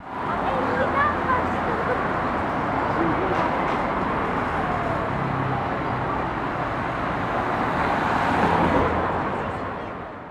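Busy city street traffic on Atatürk Avenue in Bursa: a steady, dense roar of passing cars and vehicles that fills the scene throughout, with faint crowd murmur mixed into the constant road noise.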